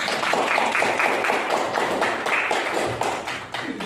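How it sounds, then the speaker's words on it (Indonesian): Classroom applause for group 1 in an Indonesian Islamic religious education teaching practice lesson: a dense, steady patter of many hands clapping at once, fairly loud and sustained throughout, easing slightly at the end. "kita beri aplaus kepada kelompok 1"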